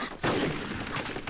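Gunfire from snipers in Conker's Bad Fur Day, a sudden loud volley that breaks in after a short quiet start and keeps rattling as a dense fusillade to the end.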